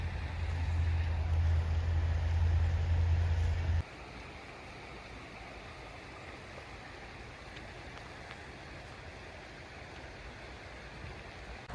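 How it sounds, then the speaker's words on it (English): A river flows beside a Yosemite campsite, a steady broadband rush of water that holds even throughout, with a heavy low rumble like wind on the microphone for the first few seconds. "This is the river"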